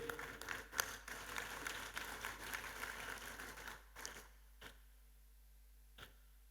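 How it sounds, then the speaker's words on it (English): Applause from the audience at a school's 20th annual day celebration, a dense clapping crowd that swells and then abruptly dies away, leaving only a few scattered claps afterward. "let's give them a big applause"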